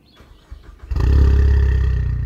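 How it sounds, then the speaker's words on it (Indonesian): A Ford Mustang fitted with a racing exhaust starts up: a brief crank, then the engine catches into a deep, loud, rumbling idle that holds steady close by. "Tapi ketika kita on, baru dia suaranya seperti knalpot racing seperti saya tunjukin berikut ini."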